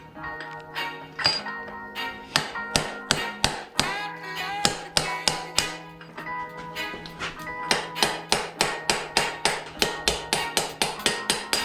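Metal hammer blows ring out in a long series of sharp, evenly spaced strikes, knocking rusted wheel bearings out of a dirt bike's front end in a workshop; the blows are close, loud and ringing, speeding up toward the end.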